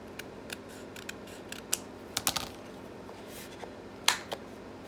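Scissors trimming a paper background page for a craft pocket project: scattered small crisp snips and clicks at uneven intervals, close and fairly quiet, with a slightly denser cluster midway and a sharp snip near the end, no voice.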